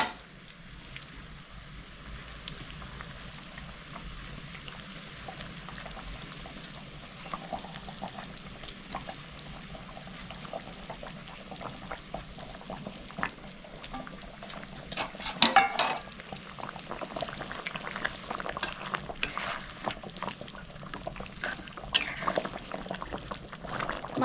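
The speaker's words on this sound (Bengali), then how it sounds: "আমি এবার মাছটা দিয়ে দিচ্ছি।" Lilontika fish going into a boiling mustard and poppy seed curry: a long stretch of bubbling simmer and scattered frying crackle, with stirring and pouring clatter that grows busier partway through.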